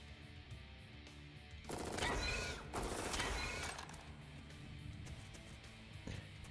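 Automatic gunfire rattles in the roguelike shooter Jupiter Hell, two dense bursts of rapid shots over a steady game backdrop, then fading to a quieter ambience.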